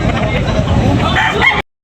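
A rooster gives a loud, close crow that fills most of the moment, with faint background chatter at a backyard poultry market in Tabunok, Talisay, Cebu.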